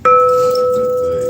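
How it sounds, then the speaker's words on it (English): A single bell is struck once, then rings out with a clear, sustained tone that slowly fades, loud and close, with no talking over it. "cause he got to ring the bell"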